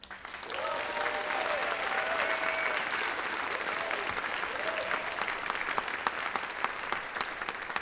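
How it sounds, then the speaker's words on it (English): A crowd at the opening of an awards ceremony, the 2016 Proto Awards, applauds loudly and steadily, with a few whoops and cheers rising over the clapping. "let's give a huge round of applause for the team that makes this night possible"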